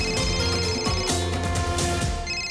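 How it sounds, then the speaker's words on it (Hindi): A telephone ringtone plays as a bright, repeating melodic ring with pulsing electronic tones, loud and continuous with no talk over it. "ये देखिए, फोन आ गया होगा"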